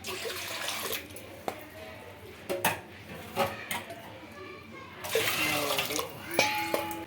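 Water from a four-cup measure poured into a pot for boiling sago to make vadiyalu, splashing steadily with clinks of vessels and a louder pour near the end.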